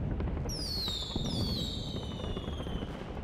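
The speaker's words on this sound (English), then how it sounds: "Digital fireworks?" Synthesized digital fireworks from a Nintendo Wii U presentation: several rising then falling whistling tones over a steady crackling, popping bed, loud and continuous throughout.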